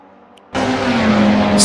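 Race cars in a Le Mans 1985 racing video game, Group C and GRA class cars running side by side down the Mulsanne: silence, then a loud, steady engine roar that cuts in abruptly and holds at a constant drone.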